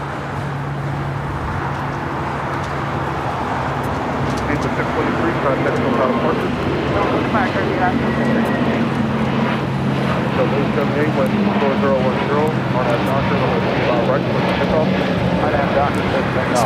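A Viva Aerobus Airbus jet airliner bound for Monterrey roars continuously and loudly at LAX, a broad, steady engine wash that swells slightly partway through, with faint voices underneath.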